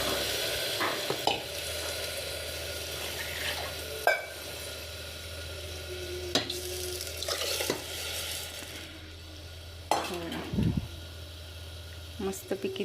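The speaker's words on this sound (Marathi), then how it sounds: "आता आपण तांदूळ आणि मूग डाळ ॲड करूया ह्याच्यामध्ये." Rice and moong dal are tipped into a pan of sizzling tempering with turmeric for a spinach khichdi and stirred with repeated spoon scrapes and clinks against the pan, close and steady, while a person talks throughout.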